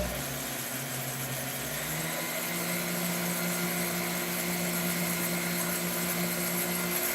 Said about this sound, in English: if you use a regular Dremel, it's too damn fast